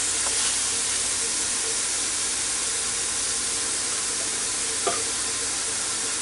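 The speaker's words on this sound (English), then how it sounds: "It's already sizzling" Beef cube steak sizzles loudly and continuously on a hot George Foreman grill, a dense crackling hiss with occasional sharper pops.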